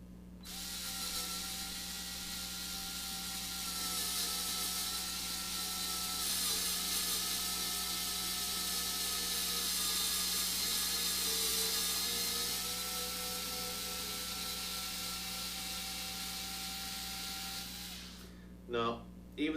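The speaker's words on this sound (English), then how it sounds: "Let's try the offset driver." An offset screwdriver turns a hex bit with a continuous whirring, ratcheting mechanical drone held steadily for most of the time, ending with a few short clicks.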